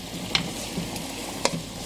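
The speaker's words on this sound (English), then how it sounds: "So we just want the onions to sweat." Onions sweat in a pan under a low, steady sizzle. Two sharp utensil clinks ring out against the pan, and there is no speech.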